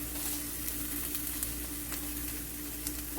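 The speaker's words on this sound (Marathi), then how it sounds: "आता ही थोडीशी हलक्या मंद आचेवर थोडीशी फ्राय होऊ दे." Fish eggs (gaboli) frying gently in a pan over low heat give a soft, steady sizzle with faint crackling pops, close and uninterrupted.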